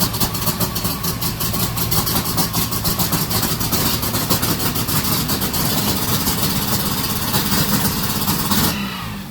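A 1990 Mazda RX7's rotary engine idles loudly and close, a steady choppy burble with faint revving swells that cuts off abruptly near the end.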